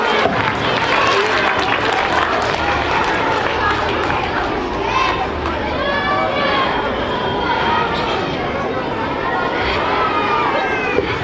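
A large school audience at a Republic Day event in Rampur gives continuous, loud applause mixed with cheers and crowd chatter that holds steady throughout.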